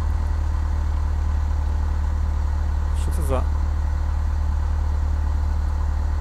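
A simulated light aircraft engine in Microsoft Flight Simulator X drones at a steady low idle throughout, joined midway by a short clattering switch-like sound, with a voice talking quietly alongside.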